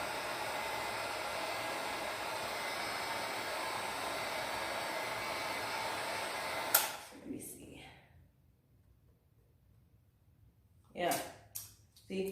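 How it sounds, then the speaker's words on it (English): A Wagner heat gun blows a steady, loud whirring rush while heating stickers on a frame, then cuts off after about seven seconds, leaving near silence broken by a few brief voice sounds. "this is a Wagner heat gun that I got from, I believe I got this from Home Depot"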